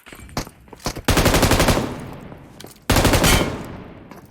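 Gunfire in the video game PUBG Mobile: a few sharp single shots, then two loud, rapid automatic bursts about two seconds apart, each rattling on before fading.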